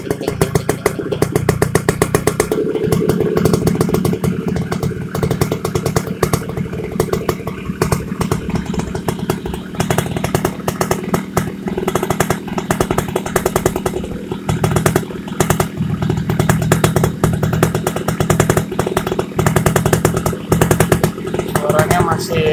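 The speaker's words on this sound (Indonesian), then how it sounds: "Ini guys suara engine-nya." A motorcycle engine with a fully refreshed stock internal rebuild runs steadily and close up, a continuous low rumbling idle with rhythmic clatter and no gaps across the whole stretch, with speech faintly present.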